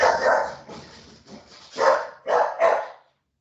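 A dog barks several times in close succession, loud and near, with short gaps between the barks and no voices over them.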